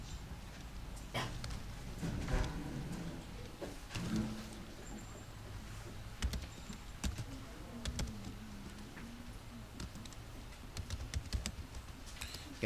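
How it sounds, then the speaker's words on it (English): Computer keyboard typing during an online statistics review session, with scattered clicks and short bursts of keystrokes over a steady room hum, fairly quiet and close, with no talking. "my typing skills are really bad today."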